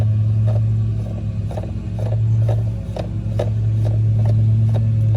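A spark plug thread insert is backed out of a blown-out cylinder head thread on a Ford Escape, producing a steady series of evenly spaced ratcheting clicks, about two per second, over a loud, constant low hum.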